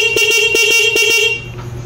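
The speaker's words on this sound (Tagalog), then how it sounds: "stock horn." Stock horn on a Honda Wave 100 motorcycle sounds in a quick series of loud, close beeps, several short honks in rhythm before cutting off.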